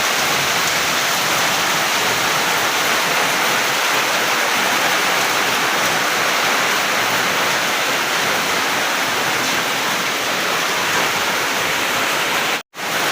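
Heavy, continuous rain pours down during Typhoon Odette, a dense, steady roar of water at close range with no letup, cutting out abruptly for a split second near the end.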